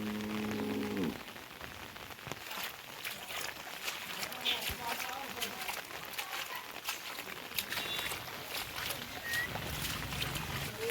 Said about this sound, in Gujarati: જો આપણા હાલમાં આટલું પાણી જાય છે ગાઈસ, જે આપણા ઘરના પાછળ ડુંગર છે ત્યાંથી આવે છે